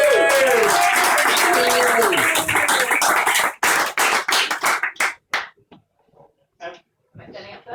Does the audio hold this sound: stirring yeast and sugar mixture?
no